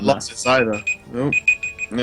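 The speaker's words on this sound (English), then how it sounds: "that's my alarm and stuff, so I need to" A digital alarm clock beeps in a rapid series of short, high tones while people keep talking over it.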